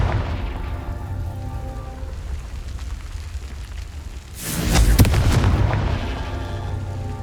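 A Confringo spell explosion in the video game Hogwarts Legacy bursts with a loud booming blast midway through, rising out of a steady rumbling game ambience.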